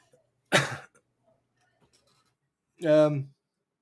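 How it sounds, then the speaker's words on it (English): A single sharp cough up close, followed after a pause by a short voiced throat-clearing grunt, otherwise quiet. "And I coughed."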